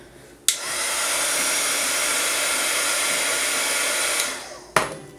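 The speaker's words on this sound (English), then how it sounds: "I've got a heat gun here, and I'm just going to heat up the surface of this candle so that this holly leaf will stick to it" A heat gun blows onto the surface of a soy candle, clicking on, then roaring in a loud, steady airy whoosh for about four seconds before winding down and clicking off, close by with no talking.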